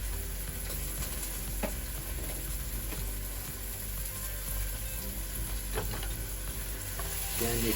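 Short ribs browning in a pot, a soft continuous sizzle with occasional clicks and utensil scrapes, moderately close and fairly quiet.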